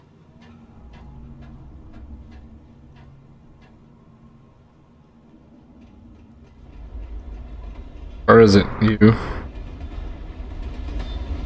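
A train rumbles past overhead in the Alan Wake game, a low rolling drone building steadily, then a burst of loud clanks and metallic crashes near the end, with someone talking briefly.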